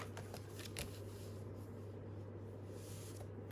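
Paper trimmed by hand for a junk journal envelope, soft scraping and rustling cuts close by over a steady low hum, a few sharper strokes near the start.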